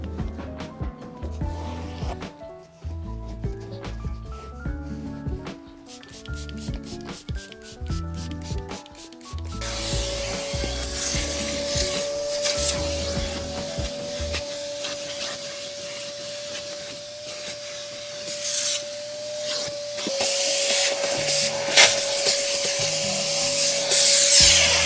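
A brush scrubs a car's interior carpet, rough rhythmic rubbing and scratching strokes close by, joined midway by a steady whining vacuum-like drone that keeps running beneath the scrubbing.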